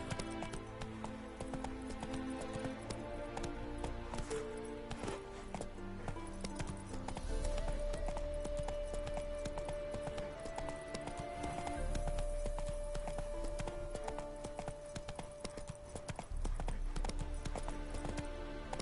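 Roach, a horse in The Witcher 3, gallops with a steady clip-clop of hooves throughout, layered over game music and ambience, with no talk.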